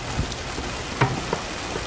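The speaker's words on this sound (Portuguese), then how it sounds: "desde que a gente terminou a casa, não tinha dado uma chuva como essa, viu?" Heavy rain falling on a newly finished house. It makes a steady, dense hiss with a few heavier drops standing out, and no one talks.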